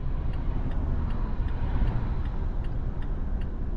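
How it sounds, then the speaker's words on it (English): Traffic on University Avenue in Little Rock, Arkansas, with a car rushing past fast, a steady broadband road roar filling the whole stretch, heard from nearby with no talking. "That car just blew by."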